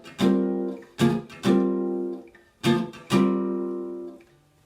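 An electric jazz guitar strums chords quickly in a swinging rhythm, played in short bursts of sharp strikes with ringing decays, close and solo.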